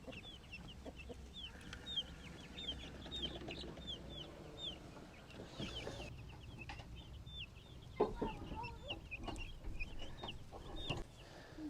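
Several hens cluck and chatter steadily in a chicken coop, many short calls layered at close range with occasional louder squawks and rustling throughout.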